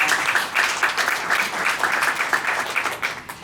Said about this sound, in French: il faut s'applaudir très très fort pour cela